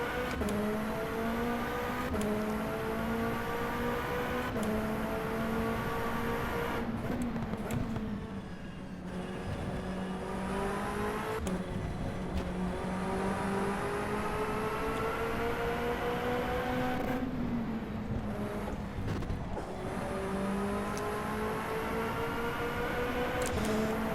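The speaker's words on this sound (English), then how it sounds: "what do I think about the car sound in the P2 cars?" A P2 prototype race car engine in the rFactor 2 racing game drones with a strong harmonic whine that rises and falls through repeated gear changes, with several sharp cuts between runs.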